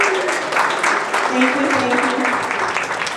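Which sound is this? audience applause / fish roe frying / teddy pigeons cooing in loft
audience applause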